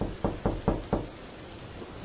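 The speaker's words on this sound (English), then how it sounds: "it sounded like somebody was knocking from inside the large closet next to the bathroom." Four quick, evenly spaced knocks on a door, followed by a couple of fainter taps against a soft background hiss.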